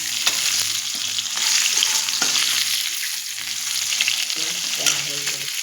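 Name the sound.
frying okra in a kadai (wok)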